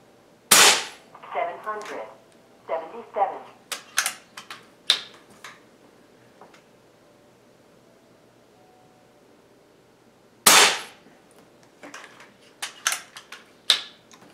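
An air rifle fires slugs through a chronograph at a 14-yard range, giving sharp, close, snappy cracks in small clusters separated by a long quiet gap, with no voices.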